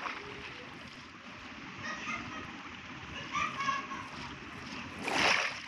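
Splashing in water in the Minecraft video game, soft watery splashes with a sharper burst near the end, under faint background voices.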